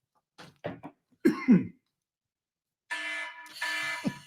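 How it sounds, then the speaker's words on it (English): A few sharp coughs in quick succession, close up, followed after a pause by a buzzing electronic alarm tone. "Warning, a cough has been detected."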